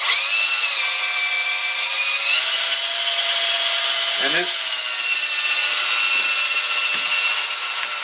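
A motorized line stripper spins, pulling fishing line off a reel with a steady high-pitched whine that shifts pitch slightly as the speed changes, loud and close, with faint brief knocks partway through.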